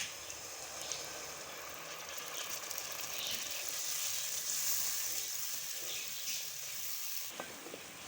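Spiced masala with yogurt sizzles steadily in a pan for Lahori chana, a constant soft frying hiss with faint occasional scrapes, no talking.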